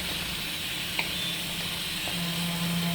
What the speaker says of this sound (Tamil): போட்டு நல்லா வதங்கணும். ஆயில் நல்லா பிரிஞ்சு வரணும்.